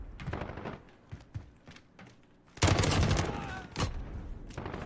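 Call of Duty gunfire from the Holger-26 light machine gun: scattered shots, then a loud sustained burst of rapid fire and a few more bursts, close and punchy with brief pauses between.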